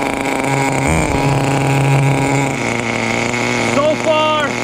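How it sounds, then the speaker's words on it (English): A Kyosho FW-05T Ferrari 575 GTC radio-controlled car's small engine idles steadily with a buzzing, slightly wavering whine, while someone talks over it. "The engine is running beautiful. Probably the best idling motor I would say I own."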